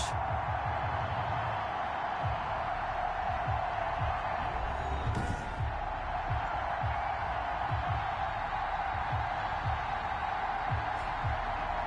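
A stadium crowd in a Madden NFL video game, Washington hosting the Los Angeles Rams, gives a steady roar of cheering with scattered thumps and claps, a constant wash of noise throughout.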